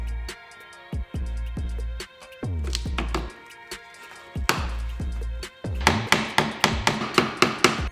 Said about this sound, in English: I had to use the hammer a little bit to get that second push pin in